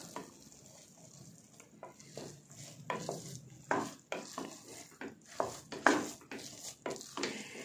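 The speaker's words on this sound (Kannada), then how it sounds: "ಚೆನ್ನಾಗಿ ಒಂದ್ಸರಿ ಮಿಕ್ಸ್ ಮಾಡ್ಕೊಳ್ಬೇಕು." Masala pongal being mixed in a pressure cooker after three whistles, with a spoon scraping and clanking against the metal pot in an irregular series of close, moderately loud strokes, no talking.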